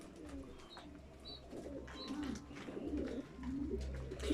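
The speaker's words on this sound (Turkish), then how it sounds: "Görüyorsunuz bizde kuş çok." Pigeons coo in soft, throaty repeated calls, several birds nearby, with a few faint higher chirps and a low background rumble.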